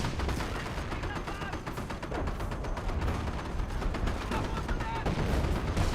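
Artillery barrage and gunfire in the Company of Heroes strategy game, with dense continuous crackling shots and booming impacts sustained throughout, loud and busy.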